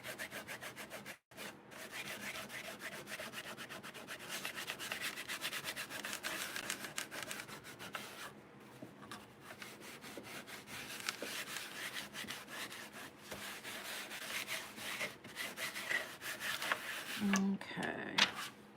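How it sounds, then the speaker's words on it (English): Steady rubbing and scrubbing of a polishing pad burnishing a crackle-medium craft surface, a continuous close, moderately loud friction hiss with slight rhythmic strokes lasting throughout. "Use my polishing pad, make sure it's burnished everywhere."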